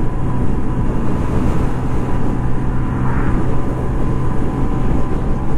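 A Honda Navi minibike carrying a passenger runs at wide open throttle, a loud continuous engine drone mixed with heavy wind rush, steady and close throughout with no talking.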